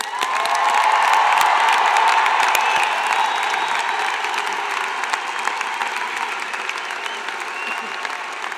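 A large crowd gives a giant round of applause for graduates at a fall 2024 undergraduate commencement, with long continuous clapping mixed with cheers and scattered whoops, strongest at first and then easing a little.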